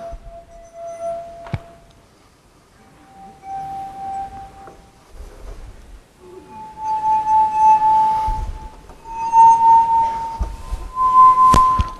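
A wet fingertip circles the rim of a wine glass with a complicated shape during a physics lecture demonstration, drawing out sustained singing tones that start faint, break off and return louder, with a few sharp clinks between.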